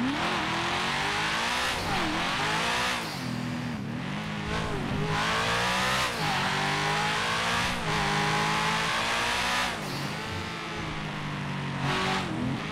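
Modified exhaust on a Chevrolet Camaro SS in GTA 5 roars through repeated rising and falling revs, loud and continuous, with a throaty muscle-car tone that stays close and steady throughout.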